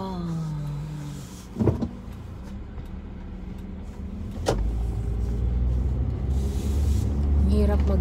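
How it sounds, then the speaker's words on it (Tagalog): Road traffic in Korea, with car engines rumbling and swelling as vehicles pass nearby; a sharp clunk and a later rush of engine noise rise over a steady low drone, and a person's voice is faintly present. "Maraming sasakyan."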